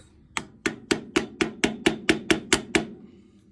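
Ten sharp metallic hammer blows on a nut ring out in a steady, evenly spaced rhythm, close and loud.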